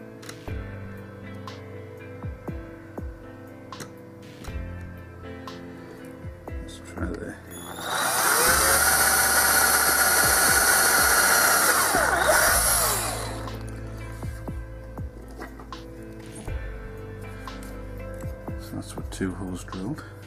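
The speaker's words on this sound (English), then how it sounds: "Two pilot holes drilled, I should say." Power drill boring pilot holes near the top and centre of a case, a loud sustained whine lasting about five seconds in the middle, with quieter workshop handling noises before and after.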